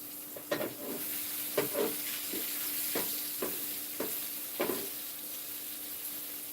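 Beer-soaked onions sizzle on an outdoor barbecue with a steady close hiss, broken by several soft scraping stirs at irregular intervals, with no talk.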